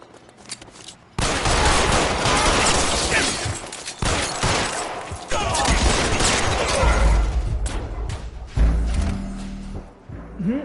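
Loud sustained gunfire bursts in the LA Noire video game, dense rapid shots and heavy thuds lasting several seconds, close and dominant, with brief pauses between volleys.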